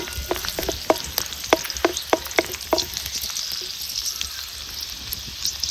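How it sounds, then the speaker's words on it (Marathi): Garlic roasting in oil in a pan for methi bhaji, a steady crackling sizzle with a quick run of sharp pops and taps early on, then a softer continuous fry. "आता ह्याच्यातलं लसूण आहे ना आपण मस्त असं भाजून घ्यायचा चांगला सोनेरी रंग होतोपर्यंत"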